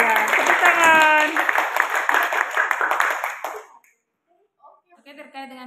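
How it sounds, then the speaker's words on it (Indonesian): Classroom applause as a group of students claps together during a teacher training practicum session, dense and loud for several seconds before fading, followed by a brief pause and some faint chatter. "Tepuk tangan."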